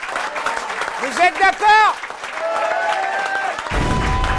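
An audience at a French evening contest show breaks into applause for the winners, a dense burst of clapping rising near the end after someone speaks with a brief vocal interjection.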